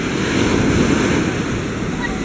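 Sea waves and surf break steadily along a beach, a continuous loud wash of water with wind buffeting the microphone throughout and no pauses.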